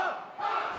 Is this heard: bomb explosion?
no